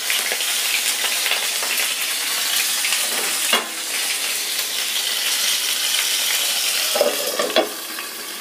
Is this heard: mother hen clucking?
no